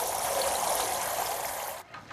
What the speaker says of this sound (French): on va trouver ce qu'on appelle une chante-pleurs qui permet de prendre sa douche